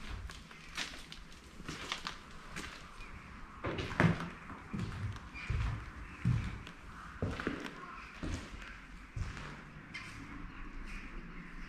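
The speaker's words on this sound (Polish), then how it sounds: "Skrzypi podłoga." Floorboards creak underfoot in an abandoned building that once housed a panel company, with irregular thumps and taps of footsteps spread through the passage, fairly close and moderately loud.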